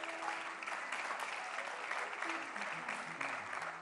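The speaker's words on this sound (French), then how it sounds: "On peut applaudir le serviteur de Dieu, s'il vous plaît." Applause for a speaker at a talk on Christian songwriting, a steady, even wash of clapping from a crowd, heard at a distance and fairly faint, with a voice faintly beneath it.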